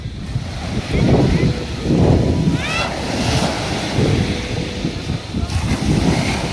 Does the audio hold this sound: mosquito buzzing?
no